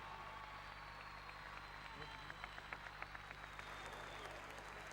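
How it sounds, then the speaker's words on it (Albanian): An audience at a 2005 recital gives a round of applause, a steady wash of many hands clapping that sounds somewhat distant and continues throughout, with a few louder individual claps standing out. "Një duartrokitje për Josën."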